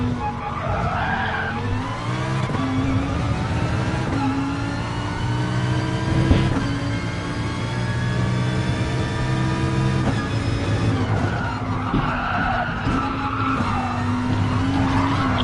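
A Lamborghini race car being driven on track accelerates and skids, its engine note rising and falling loudly with sustained tire squeal over a steady close roar.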